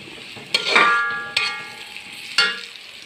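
Onions soften in a pan with chicken for a beef curry, giving a faint sizzle broken by three sharp stirring clanks, each followed by a short metallic ring.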